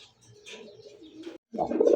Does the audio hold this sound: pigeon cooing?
yes